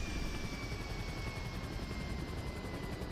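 A helicopter in the video game GTA V whirs steadily with a dense rotor drone and a faint high engine whine, constant and fairly close throughout, with no one speaking.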